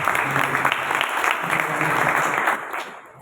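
A congregation at a church prayer meeting claps loudly and steadily for a team, a dense burst of applause that fades out near the end.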